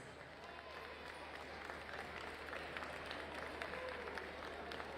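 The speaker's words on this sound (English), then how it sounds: "Please give them a big round of applause." Steady applause from an arena crowd at a FIBA 3x3 Africa Cup basketball finals ceremony greets second-place Team Egypt, a dense continuous wash of clapping with faint talk beneath.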